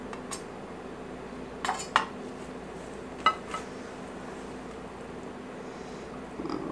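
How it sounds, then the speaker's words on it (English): A serving of taco casserole is scooped from a baking dish, giving a few scattered clinks of utensil against dish over quiet room tone. "Go ahead and scoop one of these out, shall we?"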